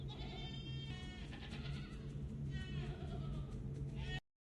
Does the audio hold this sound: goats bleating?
yes